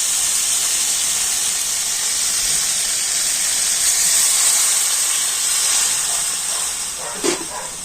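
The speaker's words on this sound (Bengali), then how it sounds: "আর এবার আমি দিয়ে দেবো গরম জল" Hot water is poured into a pan of frying potato and spices, setting off a loud, steady steamy hiss that fades slightly at the end with a small clatter.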